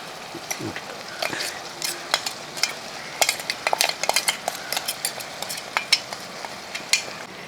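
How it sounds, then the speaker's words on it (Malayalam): A spoon stirs ground roasted ginger into boiling curry for Onam inji curry, giving a steady run of close scraping clinks against the pot over a soft bubbling simmer, with no talk. "അതൊന്ന് ഇളക്കി"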